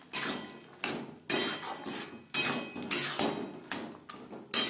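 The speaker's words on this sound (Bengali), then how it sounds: "দিয়ে দেব সেদ্ধ করে রাখা মটর" Boiled peas, 200 grams with a little of their water, go into a pan of ghugni: a series of close metallic clanks and scrapes of a spoon against the pan at a steady, uneven rhythm.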